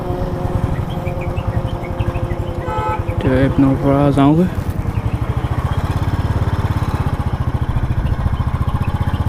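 A Royal Enfield Electra 350 motorcycle being ridden gives a steady, loud, rhythmic single-cylinder thump throughout, with someone talking over it and a brief horn-like tonal blast partway through.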